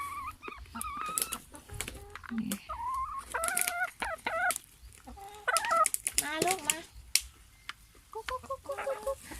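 Laying hens cluck and squawk in bursts close by at feeding time, with a person speaking between the calls and some scuffing in the background.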